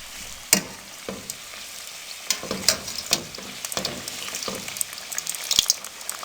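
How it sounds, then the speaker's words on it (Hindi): Kachori deep-frying in oil on a low flame, giving a steady soft sizzle broken by scattered crackles and pops, close by with no talking. "अब इनको बिल्कुल हम छेड़ेंगे नहीं और इनको लो फ्लेम पे अच्छा सा फ्राई करेंगे"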